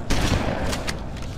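Rapid burst of assault rifle fire from Flood combat forms in Halo: Combat Evolved, a dense, loud volley of closely spaced shots lasting about a second.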